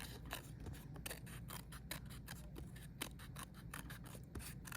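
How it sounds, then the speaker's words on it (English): Scissors trim a paper circle as it is turned, producing a quick series of crisp, close snips in an uneven rhythm, quiet and without any talk. "as I'm turning it, I'm trimming it"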